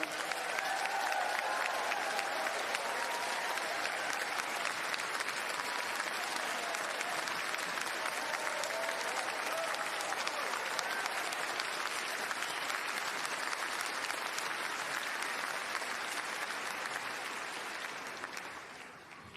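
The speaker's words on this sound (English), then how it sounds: "give him one last absolutely rousing round of applause" Sustained applause from a large audience, steady and dense for most of the stretch, tapering off near the end.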